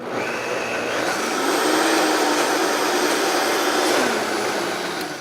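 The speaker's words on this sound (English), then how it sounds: "we're going to blend this all together" A Vitamix blender roars loudly and continuously, blending vegetables and beans for a garden vegetable bisque, its motor pitch rising and dipping slightly as the load shifts, with no talk over it.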